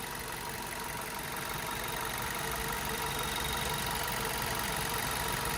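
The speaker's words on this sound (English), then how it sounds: "There's a very nice and smooth running engine" A 2009 Ford Focus SE engine idles at a steady, smooth, even rumble throughout, with no speech and no change in pitch or loudness.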